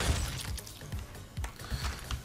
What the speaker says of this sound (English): Smashed him so hard and broke my bat.